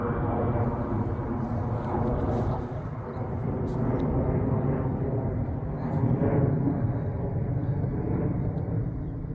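An airplane flies overhead above a backyard garden in zone 7A, its steady, broad roar filling the whole stretch with no talking and swelling slightly near the end.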